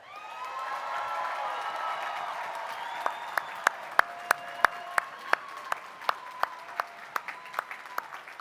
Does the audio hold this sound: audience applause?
yes